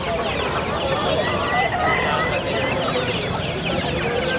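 Chickens cluck and squawk continuously at a crowded poultry market in Chandapur near Attibele, Bengaluru, with lively overlapping calls over a background of human voices and market bustle.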